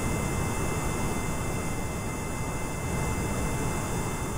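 Steady airplane engine drone from the video game Kerbal Space Program, a constant broadband roar and hiss holding level throughout with no breaks and no voices.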